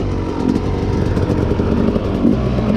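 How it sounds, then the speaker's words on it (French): An old Yamaha YZ dirt bike ridden off-road behind a KTM, its engine a steady close rumbling drone throughout, with no talk over it. "franchement la moto elle se comporte super bien"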